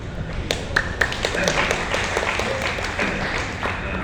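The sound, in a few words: audience clapping at satsang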